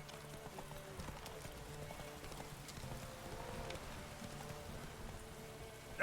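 The horse Roach galloping in The Witcher video game, a rapid rhythmic clip-clop of hooves at a steady pace, fairly quiet, with no talk over it.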